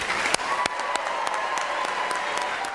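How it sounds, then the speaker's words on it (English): An audience applauds the newest NASA astronaut candidates at their introduction, a dense, steady wash of clapping from a large crowd with a few sharper claps standing out. "Join me in giving them another round of applause."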